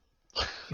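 A single sharp sneeze bursts out after a brief quiet lead-in, fairly close and loud, with a breathy tail fading into the background noise.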